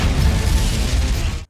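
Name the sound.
explosion blowing up a mountain in film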